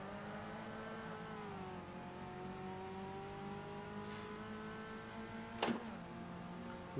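A classic touring race car engine in Automobilista hums at a steady pitch, dips, then holds again, with a brief sharp blip of revs near the end during a heel-toe downshift, heard alone without voices.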